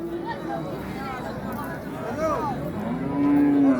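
Cattle low at a busy cattle market, with several long, drawn-out moos sounding close by over a constant babble of crowd voices and people talking.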